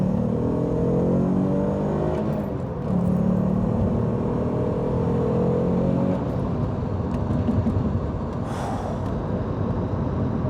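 An Alfa Romeo GTV 3.2 Busso V6 engine revs hard and loud in repeated surges, its deep rumbling roar rising and falling close by, with no talking.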